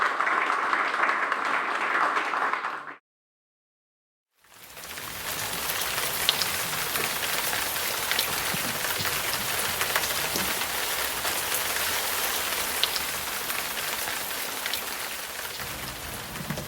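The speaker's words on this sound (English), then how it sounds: "It's absolutely pouring down with rain" Heavy rain pours down at the start of a yacht race, a dense steady hiss of drops on surfaces that cuts out briefly to silence, then returns loud and continuous for the rest.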